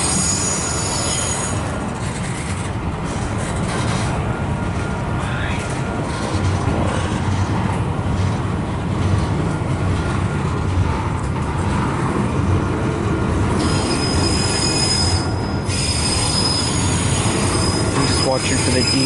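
A freight train rolls past close by, its wheels grinding and squealing loudly and continuously, with a sustained high metallic screech building toward the end.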